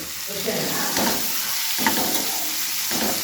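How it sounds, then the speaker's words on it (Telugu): Boiled broccoli fries with onions in a pan, giving a steady close sizzle with soft stirring scrapes and clatters across the whole stretch. "ఇప్పుడైతే బ్రోకలీ అయితే యాడ్ చేస్తున్నాను ఇట్లా ముందుగా ఉడకబెట్టుకోవడం వల్ల త్వరగా ఫ్రై అవుతుంది"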